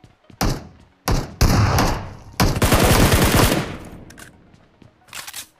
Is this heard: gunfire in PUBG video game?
yes